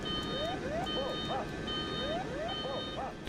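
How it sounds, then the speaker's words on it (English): A flight simulator's ground proximity warning sounds during an airliner approach near thunderstorms: synthetic rising whoop tones repeat in pairs over a steady electronic tone and cockpit hum, loud and continuous. "That GPWS sounds so scared."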